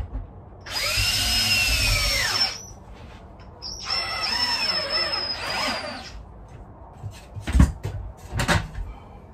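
Power drill driving heavier screws into the rungs of a wooden ladder being upcycled, two close, loud whining bursts of about two and three seconds each, followed by a few knocks and clatters.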